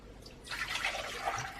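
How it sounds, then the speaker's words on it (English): Milk pours into a saucepan for a custard, quiet at first and then a splashing, bubbling liquid flow that swells for about a second before easing slightly, with no voices. "I am going to begin by pouring all of my milk into my saucepan"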